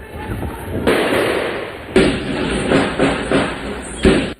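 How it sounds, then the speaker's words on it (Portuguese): Several sharp, loud gunshot bursts ring out in quick succession during a gunfight between drug traffickers in Rocinha, Rio de Janeiro, echoing with a noisy, reverberant tail between shots. "Eles trocam tiros com os outros criminosos, que estão do lado oposto e revidam."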